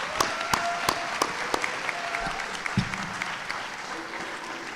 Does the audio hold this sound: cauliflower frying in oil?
no